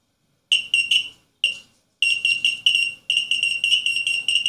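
Small active 5-volt buzzer driven by an Arduino, giving sharp, loud electronic beeps in irregular bursts, short pulses at first, then longer runs of rapid beeping, alone with no talking.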